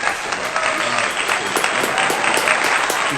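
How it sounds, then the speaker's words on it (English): Studio audience giving a strong round of applause on a talk show, steady dense clapping throughout at an even, fairly loud level with a few cheers mixed in. "Give a strong round of applause."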